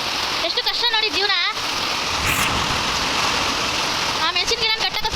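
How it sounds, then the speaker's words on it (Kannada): A steady, close downpour of heavy rain hammers onto surfaces around a chilli garden in a loud, unbroken wash, while a voice speaks over it early on and again toward the close. "ತುಂಬ ಜೋರಾಗಿ ಬರ್ತಿದೆ ಮಳೆ ನೋಡಿ"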